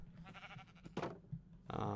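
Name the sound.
sheep bleating in a video game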